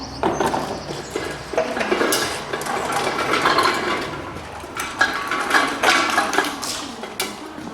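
Metal clanks and clicks from a 14mm spanner or ratchet working the oil drain plug under a Toyota Corolla in a garage, with irregular scraping taps and ratcheting close by, no talk.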